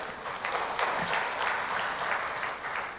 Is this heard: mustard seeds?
no